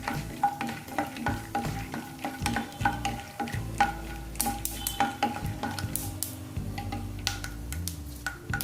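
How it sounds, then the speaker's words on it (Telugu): Peanuts fry in a few spoonfuls of oil with a soft crackling sizzle while a metal spoon stirs and scrapes the pan in repeated knocks and rattles, close and fairly quiet, with no voices. "పల్లీలు వేయించుకోవాలండి."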